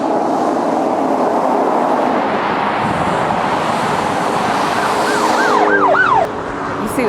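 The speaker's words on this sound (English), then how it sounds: "See the Mustang drive by" A police Mustang drives past with its siren wailing, the rising and falling tone sweeping through near the end over steady, loud traffic and road noise.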